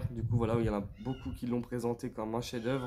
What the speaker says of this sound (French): si vous entendez miauler, c'est le chat